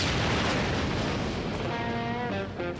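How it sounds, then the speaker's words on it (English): A cartoon explosion booms out across the desert, a broad roaring blast that rolls on and slowly fades, with a faint tonal ring creeping in near the end. "An explosion in the desert."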